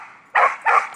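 A dog at an indoor free-play daycare group gives two quick, loud barks close by, with a faint background murmur between them.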